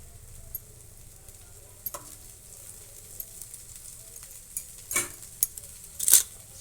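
Chopped onion pieces frying in a little oil in a pan on a low flame, with a quiet, steady sizzle and a few light stirring clinks and scrapes.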